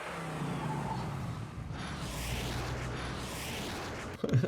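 A muscle car engine revs and roars in a low rumbling surge, swelling midway and fading, followed by a brief thump at the end.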